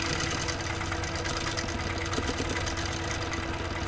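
Sewing machine stitching microquilting on background fabric, a steady fast mechanical whir with a rapid needle rhythm, fairly quiet and continuous, with no talk.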